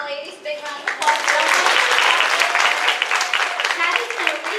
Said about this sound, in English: y'all give these ladies a big round of applause